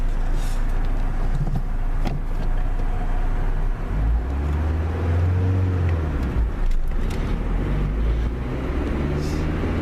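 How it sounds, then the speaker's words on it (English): A manual car's engine rumbles up and down as the driver works the clutch and shifts gears, with low-pitched revving that rises and falls while the car accelerates, heard from inside the cabin. "I switch the gear, release the clutch, and then accelerate"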